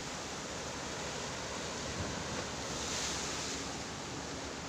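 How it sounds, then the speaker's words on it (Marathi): Foaming sea waves washing onto a beach on the Goa-Konkan coast, a steady broadband roar of surf with no distinct breaks, moderately faint and heard alone without voices. "पेसाळणारा समुद्र"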